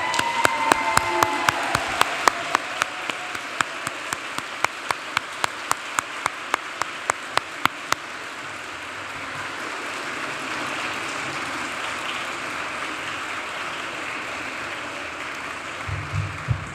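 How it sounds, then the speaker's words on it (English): Standing graduates applaud the audience at an Emory Physician Assistant Program 2025 commencement, crisp rhythmic clapping from a crowd for about eight seconds before fading into soft room murmur. "turn around, and applaud everybody that's here who has made this day possible"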